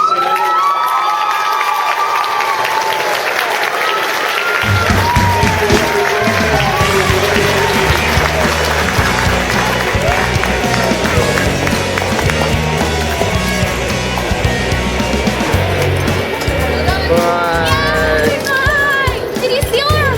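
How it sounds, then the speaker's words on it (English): An audience at a high school senior awards evening applauds the students, with loud, sustained clapping mixed with cheering, shouting and whoops from a large crowd, and a low rumble joining in after a few seconds. "Please give all of these students a round of applause"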